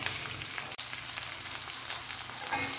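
Okra fries in a pan for bhindi do pyaaza, giving a continuous crackling sizzle at moderate level with one brief knock early on and no speech.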